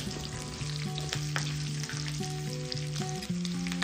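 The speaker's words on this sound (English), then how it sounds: "Keep on stirring for a few seconds to get that spiciness transferred to the oil." Chopped green chilies frying in hot oil, a steady close sizzle running throughout with light stirring scrapes on top and a sustained tonal hum alongside.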